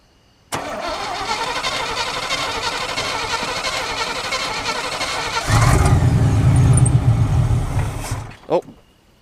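Chevy K1500 truck engine cranking and catching, then running rough with a surge in revs under held throttle as it warms, loud and close, before cutting off.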